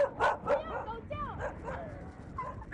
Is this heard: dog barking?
yes